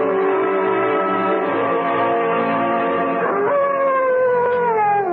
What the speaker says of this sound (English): What the devil is the matter with that dog, Chadsworth?